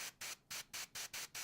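Paint spray gun used to paint a vehicle hisses in six short, evenly spaced bursts as the trigger is tapped, each a soft, airy whoosh separated by brief silences, close and fairly quiet.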